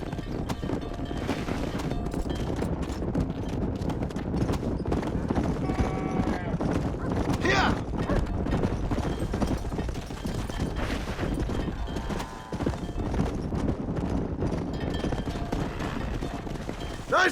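Horses being herded into a pen in the video game Red Dead Redemption: steady hoof clip-clop and animal movement run under continuous game music and ambience, with brief voices.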